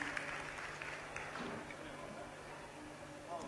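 A festival concert crowd applauds after a show, a faint, distant wash of clapping mixed with low background hum and murmur, steady for a few seconds.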